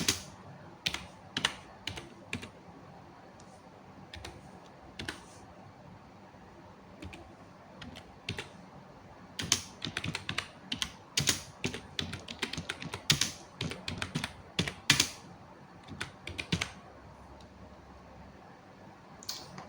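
Typing on a computer keyboard during an operating systems lab exercise, a close, crisp flurry of rapid key clicks in uneven bursts with brief pauses, louder and denser in the second half, no voices.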